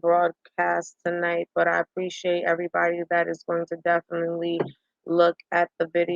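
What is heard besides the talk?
No everyday noise stands out behind the speech.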